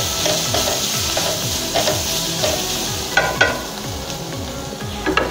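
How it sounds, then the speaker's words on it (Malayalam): Turmeric stirred into tomato kurma in a frying pan: a spoon scrapes round the pan in a steady repeating rhythm over a continuous sizzle, with a few louder knocks toward the end and no speech. "ഒന്നിളക്കാം."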